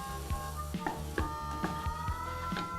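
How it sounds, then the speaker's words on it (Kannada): Food frying in ghee gives a steady sizzle under a rhythmic series of sharp scraping stirs, about eight even strokes close by, with a faint tonal hum behind and no talk. "ಇದನ್ನು ಕೂಡ ಒಂದು ಸ್ವಲ್ಪ ತುಪ್ಪದಲ್ಲಿ ಫ್ರೈ ಮಾಡಬೇಕು."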